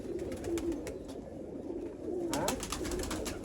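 Teddy pigeons coo in soft, repeated low murmurs, with a steady rhythm that swells toward the end of the short stretch, close by and with no voices over them.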